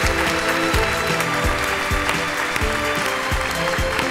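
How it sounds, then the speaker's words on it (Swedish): A theatre audience applauds a volunteer being welcomed up onstage at a live show. The steady, dense clapping runs the whole time over loud rhythmic music with a pulsing low beat. "gärna en stor applåd"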